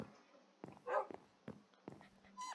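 A dog in the Minecraft video game gives several short, quiet yips and barks spaced out over a few seconds, thin and synthetic in tone, with faint background game sounds.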